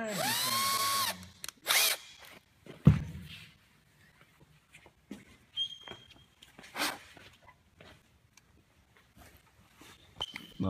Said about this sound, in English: Basically, I'm just trying to drill a hole that I can just jam that axle onto.